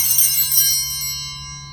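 A single struck church bell rings out brightly and then decays slowly, its metallic overtones lingering close and clear.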